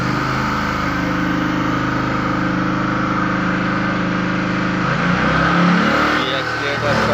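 An engine being run on hydrogen gas chugs close by with a steady rhythmic pulse while the accelerator is worked, its note shifting and roughening near the end as someone talks over it.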